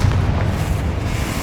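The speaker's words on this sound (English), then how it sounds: "Confringo!" Confringo fire spell blast in Hogwarts Legacy, a brief heavy booming burst with a deep rumbling body that fades quickly.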